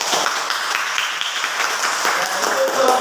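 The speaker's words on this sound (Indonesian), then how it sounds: "Tepuk tangan." A classroom of students gives a round of applause, a steady stretch of dense clapping at close range that lasts several seconds.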